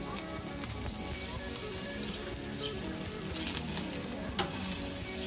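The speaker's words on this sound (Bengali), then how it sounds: "এখন আমরা চিজ দিয়ে দিচ্ছি গ্রিলে" Cheese sizzles on a hot grill with fat burning underneath, a steady crackling hiss with scattered pops and one sharper snap near the end, fairly faint.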